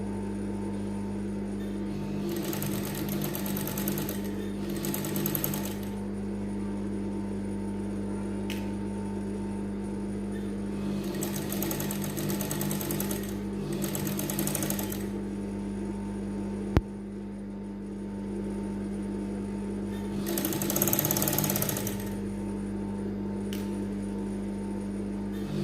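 A sewing machine stitches in three separate bursts of rapid whirring over a constant low hum, each run lasting a couple of seconds.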